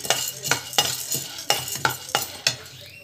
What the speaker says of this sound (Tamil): ஸோ நல்லா வந்து இப்படி வறுத்துக்கோங்க.